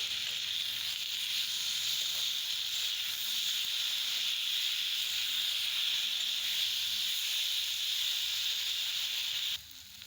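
Fish roe sautés with ginger, garlic, onion and a spoonful of salt in a pan, giving a steady, loud, close hiss of sizzling that runs unbroken and drops slightly in level at the very end.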